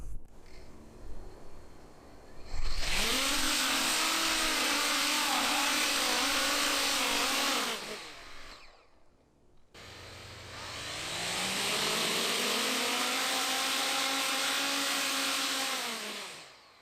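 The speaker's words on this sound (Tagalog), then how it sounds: "Kailangan ng full throttle para lumipad, kaya nag-aalala ko baka mag-overheat ang mga motor." Two long bursts of a loud, high-pitched drone impeller motor whine, each spinning up and holding at full throttle, with a short pause between them.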